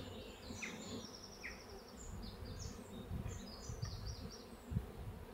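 Honeybees buzz in a steady, dense hum during a Warré hive transfer from a miniplus box, with higher whining passes of individual bees flying close by and occasional soft knocks from handling the hive.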